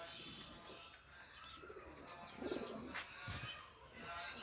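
Soft low cooing of Marshal pigeons at a pigeon farm, a few quiet murmuring coos and faint chirps at moderate distance over a hushed background with light shuffling.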